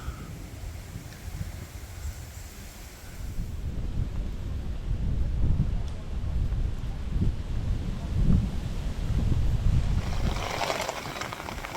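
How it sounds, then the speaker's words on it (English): Strong wind picks up beside the water at a carp fishing spot, a rough, steady rumble that buffets the microphone and grows louder a few seconds in, then stays heavy and continuous. "The wind has suddenly picked up."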